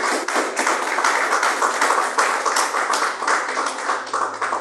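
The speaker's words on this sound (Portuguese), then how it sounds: "Palmas para o Senhor Jesus." A church congregation claps together in steady, dense rhythmic applause that stays full and even throughout, with no voices standing out.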